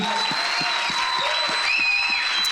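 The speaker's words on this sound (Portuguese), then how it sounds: "Aplauda mais uma vez o Senhor." A church congregation applauds in a dense, continuous wash of clapping, with steady rhythmic claps standing out and a sustained tone ringing over the crowd.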